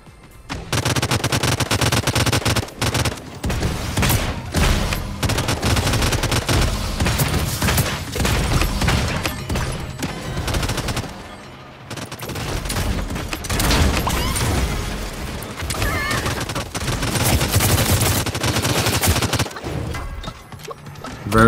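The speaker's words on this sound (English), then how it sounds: "Someone was shooting at me from this side. Just gonna return the fire." Rapid gunfire in the battle royale video game Realm Royale Reforged, with dense, loud bursts of shots that continue almost without a break, pausing briefly near the middle before the firing picks up again.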